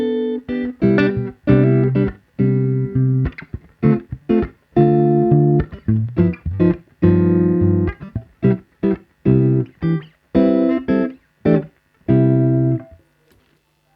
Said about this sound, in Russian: На нековом звукоснимателе у нас гитара звучит так.